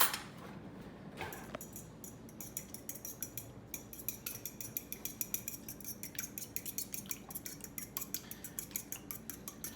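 Eggs cracked into a bowl are whipped quickly with a utensil, giving a fast, even run of light metallic clicks and scrapes against the bowl, close and fairly quiet with no talking.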